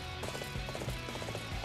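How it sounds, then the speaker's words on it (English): A horse gallops in Dynasty Warriors 8, its rhythmic hoofbeats thudding steadily under a dense wash of battlefield noise. "Nice horse, man."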